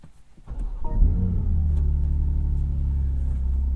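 A 2023 BMW M2 with a six-speed manual starts up: a brief crank, then the engine catches with a loud flare at about one second and settles into a steady, deep, close idle rumble.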